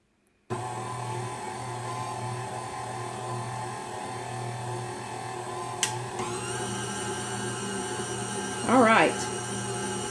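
A KitchenAid stand mixer kneads pizza dough with a steady motor hum and rhythmic churning that runs close and continuous for ten seconds, with a few brief clanks and a short louder swell near the end.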